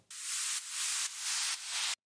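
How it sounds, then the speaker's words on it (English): Four broadband white-noise downlifter swooshes in a row, each swelling then cutting off, forming a steady rhythmic hiss with no voices. "I've got a white noise downlifter."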